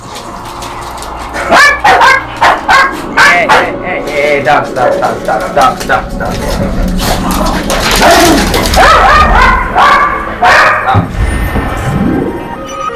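Several pet dogs bark excitedly indoors in a home room, with loud repeated bursts of barks and yips crowding close together while a person talks over them.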